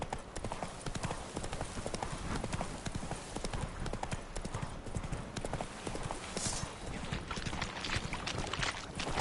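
Steady clip-clop of horse hooves at a walking pace in The Witcher video game on PS5, close and continuous, with faint background noise throughout.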